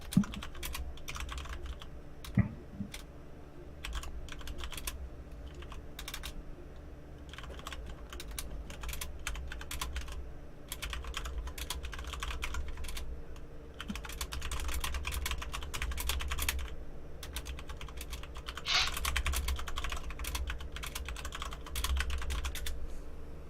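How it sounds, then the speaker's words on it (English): Steady, rapid typing on a loud mechanical keyboard with green switches, clicky keystrokes running throughout at close range over a low background hum, with no talking. "I have a loud keyboard. Yeah, I do too, man. I have green switches"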